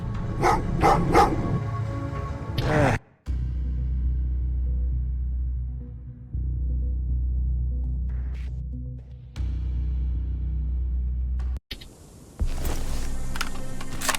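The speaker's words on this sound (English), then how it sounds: "Oh, what's with the dog?" A dog in the video game Terminator Resistance barks in a quick burst of several sharp woofs, followed by low game ambience and scattered faint noises, then another short bright burst near the end.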